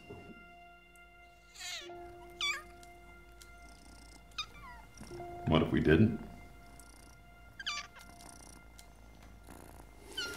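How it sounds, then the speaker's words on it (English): Kittens mewing in short, high, repeated calls scattered through the stretch, with a soft purr underneath and a louder burst of meowing near the middle, mixed with people talking nearby. "It's kittens."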